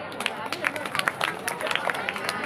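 An audience at a school event claps after a song, with dense, uneven hand claps rising and falling through a short burst and faint crowd murmur underneath.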